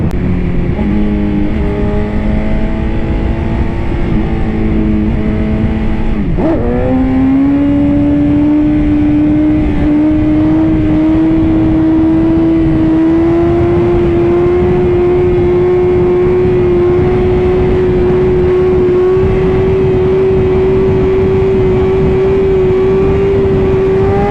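A motorcycle engine revs hard and steadily during a clutch wheelie, loud and close, with the pitch dropping sharply once early and then climbing slowly as the throttle stays open for a long sustained pull.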